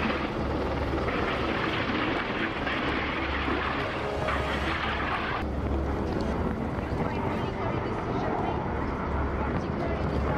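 NATO fighter jets roar loudly during a Baltic Sea military exercise, a continuous heavy rumble that fills the whole stretch while a voice talks over it.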